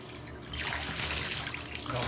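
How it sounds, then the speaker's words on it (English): Hot water pours and gushes steadily down a bathtub drain, a quiet start giving way to a fuller rushing splash that continues to the end. "As it's pouring out,"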